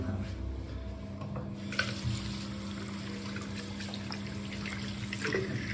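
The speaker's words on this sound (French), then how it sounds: "Je vais me laver les mains." Hands are washed under running tap water at a sink, a steady close splashing flow with small surges as the hands move through the stream.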